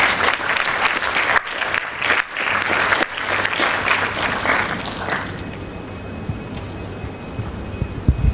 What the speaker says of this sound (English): can we give a round of applause for our guest speaker